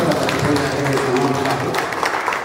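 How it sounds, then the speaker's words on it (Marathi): Audience applause at an Indian Medical Association installation and awards ceremony, a steady dense wash of clapping filling the room, with a voice talking faintly beneath. "एकदा टाळ्या वाजवता आपल्या लाडक्या व्यक्तिमत्वाचा"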